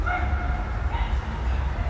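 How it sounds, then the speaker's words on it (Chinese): A dog outside barking, a few muffled yips and woofs heard fairly close over a low steady background hum. "你又听到外面有狗叫了，就开始转过去"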